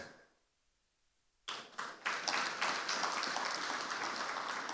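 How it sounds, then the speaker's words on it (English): Audience applause at a social initiatives launch event, beginning abruptly after a second and a half of near silence, then a steady, dense clapping from a full hall continuing to the end. "That applause is not enough."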